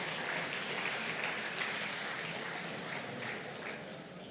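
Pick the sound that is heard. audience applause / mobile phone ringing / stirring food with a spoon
audience applause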